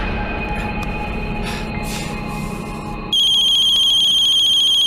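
A mobile phone rings in a Hindi-dubbed South Indian action film. A steady, bright electronic ringtone starts abruptly about three seconds in, after a low rumbling background, and then holds loud and close.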